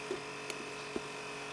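A steady mechanical buzzing drone of a small electric tyre inflator pumping up a tyre with a slow puncture, running continuously at close range, with a few faint clicks.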